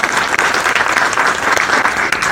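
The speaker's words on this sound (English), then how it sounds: "Give a round of applause for all the city council members and Loretta." An audience gives a steady, dense round of applause at a US–Nepal relations 75th anniversary celebration with city council members present; the clapping is loud and continuous throughout, with no talk over it.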